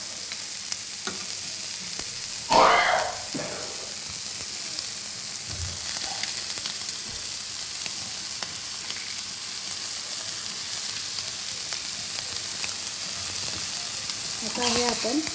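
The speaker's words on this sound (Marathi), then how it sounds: "तर आपण हा लसूण वरती खायचा टाकूया." Garlic frying on top of fish in a hot pan gives a steady, continuous sizzle, with a brief scrape and stir partway through.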